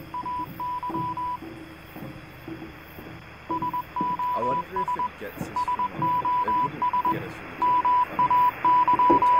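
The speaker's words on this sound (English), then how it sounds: "Oh, I hear beeping." Repeated electronic beeping in the video game Sign of Silence, short bursts of steady tones, some rapid and some drawn out, running through the clip under ongoing talk.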